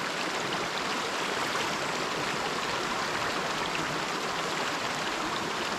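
River stream flowing outdoors, a steady, dense broadband rush of water that stays constant and close throughout with no voices.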